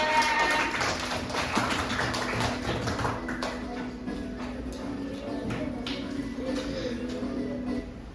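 Students clapping in a classroom after a lesson, a scattered, moderately close patter of claps that runs unevenly throughout with faint background murmur.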